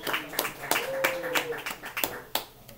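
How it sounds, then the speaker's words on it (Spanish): An audience in a Bogotá club claps for a solo guitarist, a few sharp, sparse hand claps from a small crowd while a voice speaks over them. "Un aplauso para Charlie."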